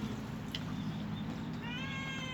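A cat meows once near the end, a short rising cry standing out over a steady low background hum.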